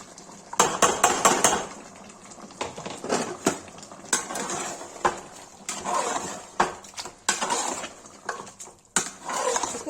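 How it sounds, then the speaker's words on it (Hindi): Tomatoes go into a pan for mutton rogan josh, with repeated metal scraping and clinking of a spoon against the pan over a soft sizzle, close up and fairly loud. "गाइस अब टमाटर डाल देंगे।"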